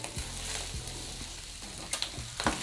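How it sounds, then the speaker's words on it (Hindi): Boiled rice being stirred into egg fried rice in a hot pan over a low flame: low thuds and scrapes of the spatula over a continuous sizzle, with a couple of sharper clinks near the end, no talking. "अब मैं इसमें बॉइल्ड राइस डालूंगी। अब इनको मिक्स कर लेंगे।"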